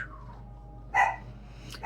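A dog gives two short barks close by, a second apart, over a low, steady background hum in an otherwise quiet room.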